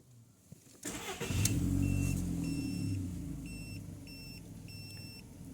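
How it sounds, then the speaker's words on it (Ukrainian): A Volkswagen Golf 4 with a 1.6 engine that stalls, runs unevenly and loses power cranks briefly, fires up and settles into a steady low idle, while a diagnostic tool beeps repeatedly over the engine hum. "Запускаємо автомобіль."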